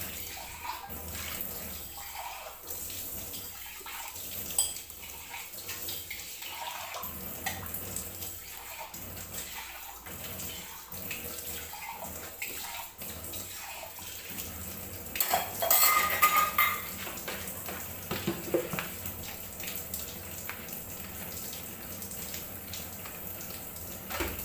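A kitchen sink and tap being washed under running water, with dishes and utensils clinking and scraping in bursts over a steady stream, close and moderately loud, no talk.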